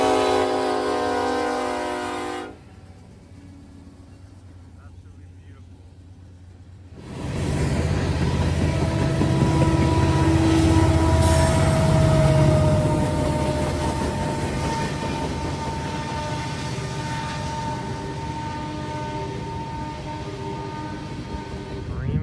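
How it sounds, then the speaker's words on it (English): Union Pacific freight train with a UP lead locomotive and a screaming distributed-power unit rolling past close by, a loud sustained roar of engines and rail noise after a brief quieter gap, with horn-like tones near the start. "I was out to catch a 174 with a UP leader and a DPU that was screaming louder than any baby on a plane"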